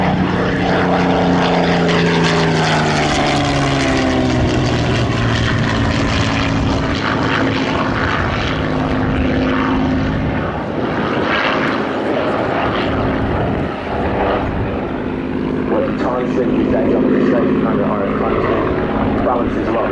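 Hawker Hurricane WWII propeller fighter flies past at an air display, a loud, continuous rough piston-engine drone that swells and shifts as it passes, with people talking nearby.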